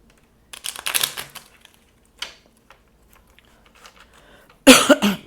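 A few dry coughs: a short cluster near the start, a lone one midway, and a louder burst at the end, with quiet gaps between.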